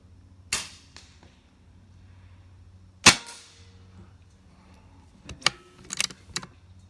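A Gamo Urban bullpup air rifle, zeroed at 30 yards, fires two sharp, loud cracks a few seconds apart, followed by a quick flurry of lighter metallic clicks and knocks.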